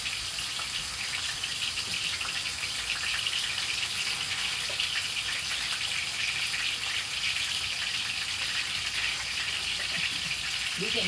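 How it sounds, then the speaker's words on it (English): A steak sears in a very hot pan with a steady, dense hiss of sizzling fat that holds constant throughout, close and fairly loud, with no talk. "You can hear that sizzle."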